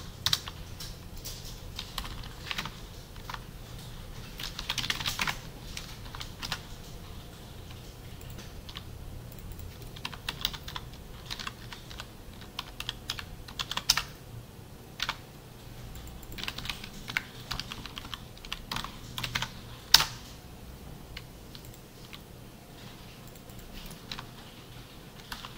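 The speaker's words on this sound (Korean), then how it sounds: "다시 EXIT 엔터 치고 자 다시 컨트롤에서 그레이브 한 다음에" Continuous clicking of a computer keyboard as commands are typed, irregular bursts of keystrokes with occasional louder taps from the Enter key, close and dry, with no talking.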